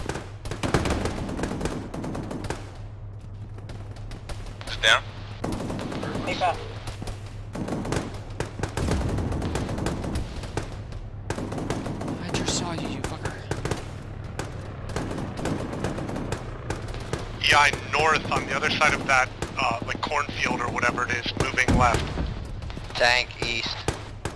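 Gunfire in a ShackTac military video game, with bursts of automatic fire and scattered single shots cracking repeatedly throughout, partly overlapped by voices talking over radio.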